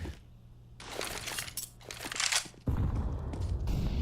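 Gunfire in a competitive Counter-Strike match: sharp, close shots crack in quick bursts over a shifting game backdrop, ending in a louder, denser stretch of noise.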